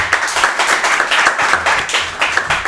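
An audience at a school quiz contest between two lycée teams applauds, dense and loud clapping that pulses in waves and carries on steadily without voices.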